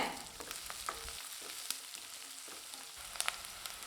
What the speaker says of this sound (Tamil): சிறிதளவு கருவேப்பிலை இதை சேர்த்து நல்லா வதக்கி